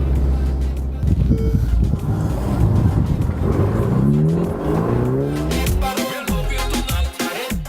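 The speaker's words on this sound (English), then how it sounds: "fire it up, listen to that lovely exhaust" A Ferrari Portofino sports car engine revs hard, its exhaust roaring and rising in pitch, then drops back with burbling pops, loud and close.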